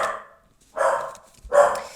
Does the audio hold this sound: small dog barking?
yes